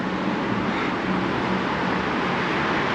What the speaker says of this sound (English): The noise of the traffic, but you get that in any town centre.